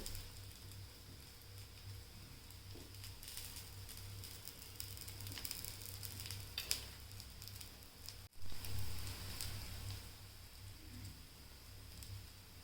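Bread potato patties sizzle steadily in a shallow layer of oil in a pan, a soft continuous crackle with a brief pop near the middle, fairly quiet and close.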